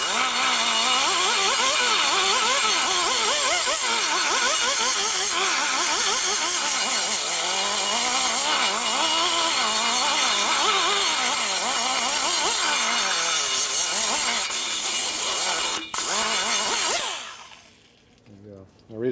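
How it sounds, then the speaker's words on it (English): A smoothing cutter porting the ports of new Harley-Davidson Touring 110ci Screamin' Eagle cylinder heads gives a loud, continuous high-pitched grinding whine with a wavering pitch, close by, ending with an abrupt stop. "So now we're just going to smooth it up a little bit with the smoothing cutter."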